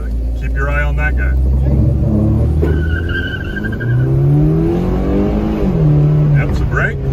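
A car accelerates hard on an autocross course, its engine note climbing and falling loudly through gear changes, with a brief tire squeal, while a person in the car talks over it throughout.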